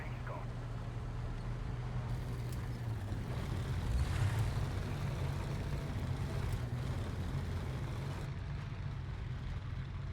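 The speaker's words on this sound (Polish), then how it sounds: "słyszymy kolejne silniki" Vehicle engines drone low and steady in a battle royale video game, a distant motor hum running beneath a voice talking throughout.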